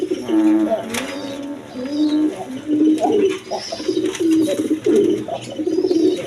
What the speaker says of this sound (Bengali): মূলত বানজা কবুতর এটা